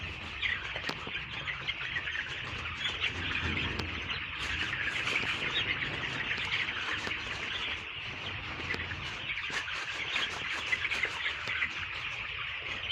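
Village chickens, some of them sick, cluck and chirp continuously in the background over a steady bed of ambient noise, faint and distant, with no talk.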